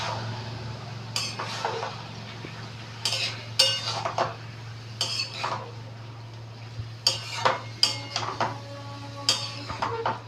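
Shredded cabbage is stirred and fried in a pan for a Bengali dish with rohu fish heads, giving repeated clattering scrapes and clinks of a spatula against metal over a low steady hum, with no talking.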